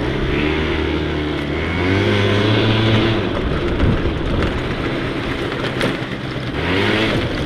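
Rebuilt scooter engine running steadily while riding during break-in, a loud continuous mid-pitched drone that rises and falls slightly with throttle, close and alone without talk.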